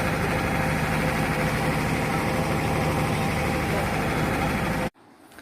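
A tourist boat's engine drones on Thekkady lake during a wildlife-viewing boat ride, a loud, steady, close rumble that runs unbroken and then cuts off abruptly near the end.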